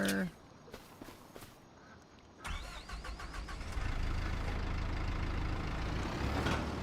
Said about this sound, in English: We'll drive the semi truck over together.